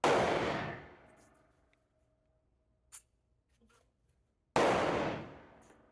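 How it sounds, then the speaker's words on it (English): Two loud, sharp shots from a Glock 19 Gen 5 pistol fitted with a ramjet and a Taran Tactical faceplate magazine, spaced about four and a half seconds apart, each trailing off in a long, echoing decay with near silence between them. "now we're going to shoot the Glock with the ramjet and the Taran tactical"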